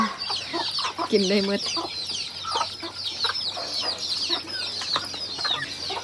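Chickens clucking and calling around a Thai family farm that also keeps ducks and pigs, a steady busy chorus of birds close by with a low background hum and a voice talking briefly over it.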